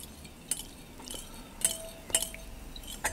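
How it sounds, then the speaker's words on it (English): A spoon stirring a mixture in a bowl while making lamingtons, giving faint, quiet clinks at a slow irregular pace, about five light taps against the bowl. "I'm going to stir that around"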